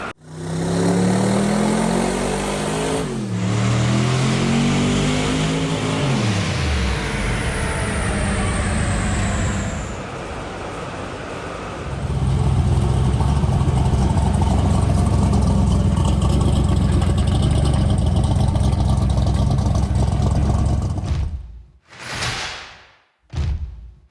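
A loud car engine on a dynamometer roars at steady high revs for several seconds, dips briefly, then surges again in a sustained drone before cutting off abruptly.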